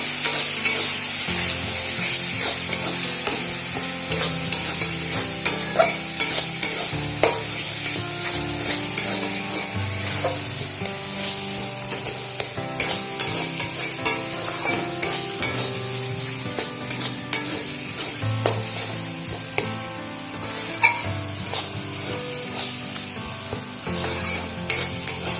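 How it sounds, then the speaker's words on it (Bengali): Spices with salt and turmeric being stirred and fried in a pan for jackfruit curry, a continuous sizzle under repeated scraping and rubbing strokes of a spatula, close and steady with no talk. "আবারও সমস্ত মশলার সঙ্গে মিশিয়ে নাড়াচাড়া করে একটু ভেজে নেব।"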